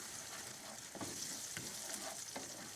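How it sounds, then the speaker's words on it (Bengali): Two eggs fry and get stirred in a pan for a noodle dish, a soft steady sizzle marked by a few light scraping strokes, close and without speech. "2টা ডিম দেওয়ার পর আরও ভালো করে এটা মিক্স করে ভেজে নিব।"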